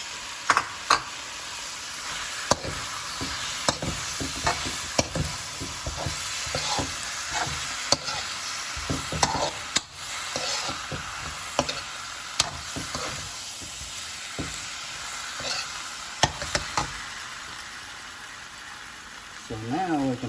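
Drunken noodles stir-frying in a pan with a garlic sauce poured in, steady sizzling hiss with repeated scraping and clattering strokes of a utensil, fairly close and continuous throughout.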